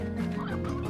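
Hens in the video game Slime Rancher cluck continuously and close, a dense overlapping flock chatter filling the brief moment.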